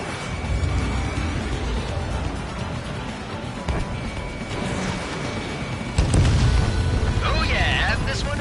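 Missile explosions from Ace Combat 7 aerial combat: sustained rumbling blasts and booms under continuous jet roar, with a louder burst near the end and radio chatter in the background.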